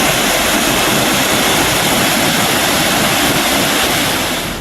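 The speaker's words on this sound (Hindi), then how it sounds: "हसदेव नदी का जलस्तर काफी बढ़ गया और पानी एनीकट के ऊपर से बहने लगा" Floodwater from the swollen Hasdeo river pours over a concrete anicut weir, a loud, steady, close roar of rushing water with no break.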